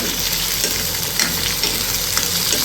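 Potatoes, onions and capsicum fry together in a pan with a steady, close sizzle that holds evenly throughout, with no talking.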